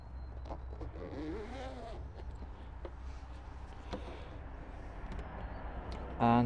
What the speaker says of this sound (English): then you have a zip to unzip the seat cover itself